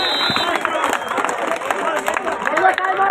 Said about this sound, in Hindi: साथियों ताली बजाए एक बार इस खिलाड़ी के लिए।